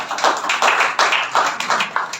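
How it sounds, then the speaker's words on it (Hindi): An audience bursts into loud, close applause for a young girl at a gathering, with rhythmic bursts of clapping that swell and pulse steadily. "बच्ची के लिए एक बार जोरदार ताली।"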